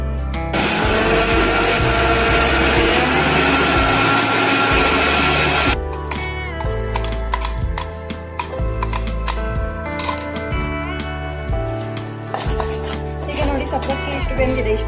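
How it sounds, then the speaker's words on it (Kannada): A kitchen mixer grinder whirs loudly while blending payasa ingredients, a dense steady roar for several seconds that cuts off abruptly, followed by clattering, scraping handling noises. "ಅದನ್ನ ಇನ್ನೊಂದ್ಸಲ ಮಿಕ್ಸಿ ಮಾಡ್ಕೊಳ್ತೀನಿ"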